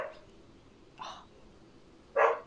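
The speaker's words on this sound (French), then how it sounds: "C'est le chien qui aboie." A dog gives a few short barks nearby in a home setting, one faint yelp, then a sharper, louder bark about a second later, with a quiet gap between.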